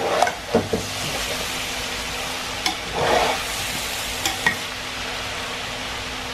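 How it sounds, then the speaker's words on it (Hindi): Chicken and vegetable fried rice is stir-fried in a pan, restaurant style: a steady sizzle with repeated scraping and tossing of the rice, close and unvoiced throughout. "अब मैं चावल डालना शुरू कर दिए इसके अंदर।"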